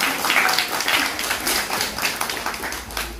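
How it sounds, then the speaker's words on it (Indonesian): Scattered audience applause at an Indonesian gathering, a fairly quiet wash of many hands clapping at a middling distance, steady without a clear peak, with a voice faintly present under it. "Tepuk tangan semuanya"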